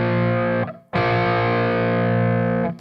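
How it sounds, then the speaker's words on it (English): Distorted electric guitar playing a power chord split into two parts: a sustained, buzzing chord that cuts off briefly, then rings out loud and steady again before stopping. "they want us to break up a power chord into two parts like this."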